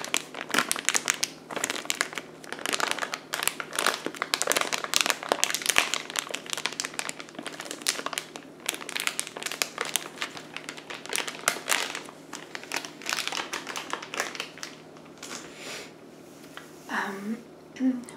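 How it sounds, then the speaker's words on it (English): A crinkly plastic package is handled up close, its crackling rustle running steadily and densely for most of the stretch beneath a soft, low voice. "And I like the crinkly package it comes in."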